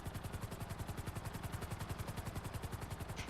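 Sea Sparrow, a light, quick amphibious helicopter in GTA Online, with a steady rapid rotor chop pulsing evenly throughout, fairly close and moderately loud, no talk.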